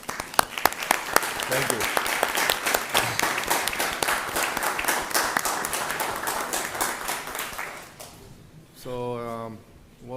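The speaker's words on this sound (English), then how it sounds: "I would like to request you to join me in giving them a round of applause" Audience applause at a city council meeting fills the room for about eight seconds, steady and full, then fades out before someone speaks briefly at the end.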